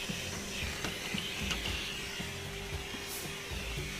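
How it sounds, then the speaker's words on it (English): A vacuum cleaner runs over a computer case with a steady, broad hiss and whoosh, close and continuous, with a few faint knocks. "Vacuum."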